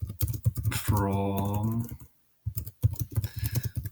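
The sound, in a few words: typing on a computer keyboard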